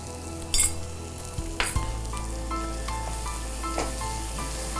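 Onion and tomato masala with curry leaves sautés in oil, giving a continuous sizzle. Several sharp clinks and scrapes from a stirring utensil punctuate it, heard up close with no talking.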